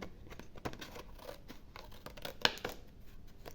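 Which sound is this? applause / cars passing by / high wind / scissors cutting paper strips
scissors cutting paper strips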